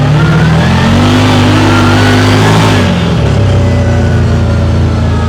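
A 2024 CFMoto Zforce 950 Sport 4 four-seat side-by-side in sport mode accelerates hard, its engine revving up loud and close with rising pitch, then the note drops as it shifts and keeps pulling steadily.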